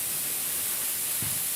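Airbrush spraying paint onto a weave gives a steady, even hiss of compressed air and spray that runs through the whole moment at low level, alone with no talk.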